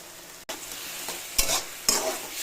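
Leafy greens cook down in a pan as their released water boils off, giving a close, steady sizzle broken by two loud scraping stir strokes.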